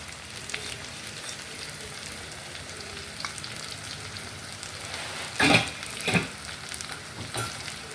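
Kashmiri chilli powder and asafoetida fry in a pan, a soft continuous sizzle near the mic, with a couple of louder scraping stir strokes past the midpoint and another toward the end.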